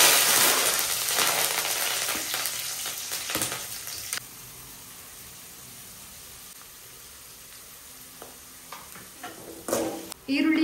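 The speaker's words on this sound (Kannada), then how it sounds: "ಸ್ವಲ್ಪ ಕರ್ಬೇವಿನ ಸೊಪ್ಪನ್ನ ಹಾಕ್ತೀನಿ" Curry leaves dropped into hot oil with cumin, dried chilli, onion and garlic give a loud, hissing sizzle that slowly settles to a steady quieter fizz, then flares up with stirring near the end.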